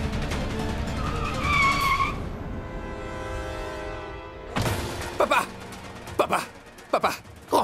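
A car drives fast, tires squealing and skidding in a long sustained screech, followed by sharp bursts of impact-like noise and brief shouts.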